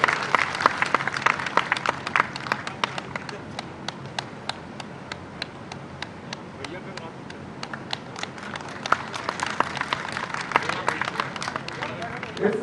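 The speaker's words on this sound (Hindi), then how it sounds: "तालियां जरा जोरदार से बज जाए" A crowd at a conference of cobblers in the Budhni assembly constituency claps continuously, louder at the start and swelling again near the end, with voices murmuring and calling out among the applause.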